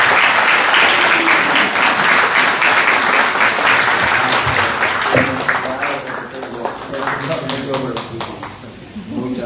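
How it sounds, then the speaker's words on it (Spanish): Strong, dense applause from an audience at a book presentation, honoring the book's author, fills the space loudly and steadily before thinning out, while voices rise beneath it near the end. "Yo les pido un fuerte aplauso para Gianpietro Schibotto."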